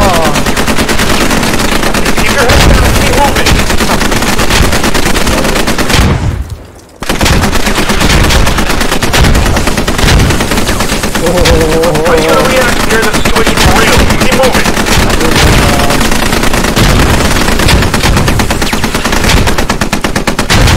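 Squad infantry training live fire exercise: dense, loud machine-gun bursts and rifle shots fire almost continuously, broken by one brief lull, with voices shouting underneath.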